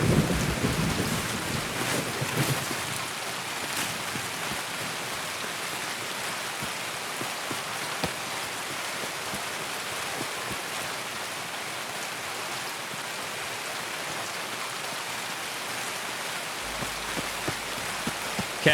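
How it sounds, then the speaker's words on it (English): Heavy rain pours steadily in the Escape From Tarkov video game, a dense continuous hiss with low thunder rumbling in the opening seconds, no voices present. "Oh, it is raining hard."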